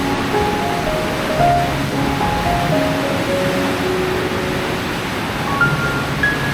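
A fast-flowing river at night at Dujiangyan, China, the site of an ancient water engineering system, heard from the bank. Its rushing is a broad, continuous roar with no breaks, and faint tonal hums sit in the background.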